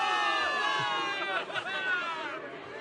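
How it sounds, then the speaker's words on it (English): In the video game Zenless Zone Zero, a crowd of soldiers cheers for victory in a dense wall of shouting and hollering at moderate loudness. "Give it up for yourselves, soldiers! Cheer for victory!"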